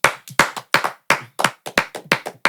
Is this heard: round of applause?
yes